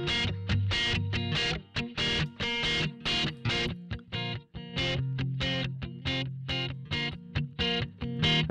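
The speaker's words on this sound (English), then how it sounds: "push that all the way up, you get real input stage distortion." Distorted, crunchy audio from a Sansamp plugin with its input stage pushed all the way up in Pro Tools, playing as rhythmic bursts of a driven musical phrase with steady loud pulses throughout.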